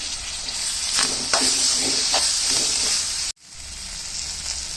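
Mint and coriander wilting in hot oil with masala, a steady close sizzle and hiss with a few scraping stir strokes, then a brief cutoff before the frying resumes.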